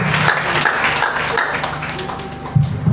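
Church congregation applauding, a dense, steady wash of clapping from many hands filling the room, with some voices mixed in.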